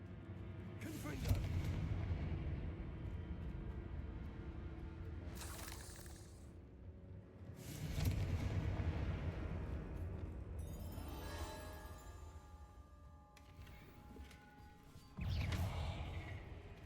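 Fire spells cast in the video game Hogwarts Legacy: several loud bursting booms with crackling, shattering debris, each blast separated by a few seconds amid game ambience.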